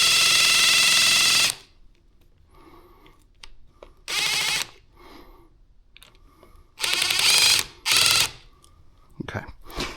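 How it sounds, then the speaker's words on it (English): An impact driver tightens the bolts on a 2500 lb winch being fitted to a Polaris Sportsman ATV, firing in several short, loud, close bursts separated by quiet pauses and faint handling noise. "I'm using an impact, but I'm taking it really easy."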